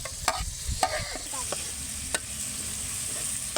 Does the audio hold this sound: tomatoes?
yes